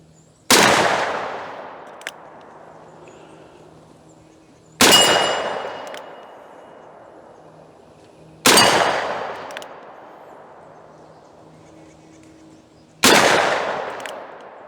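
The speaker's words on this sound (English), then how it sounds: "let me shoot another 6 rounds because I was pitiful here on these" Four sharp, loud .357 Magnum revolver shots fired outdoors at slow, uneven intervals, each with a ringing decay trailing after it.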